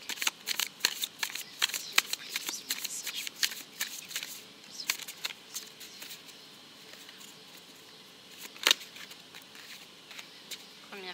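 Tarot or oracle cards are shuffled by hand for a French card reading, giving repeated soft riffling and patting bursts close up. Quiet speech is heard in the background.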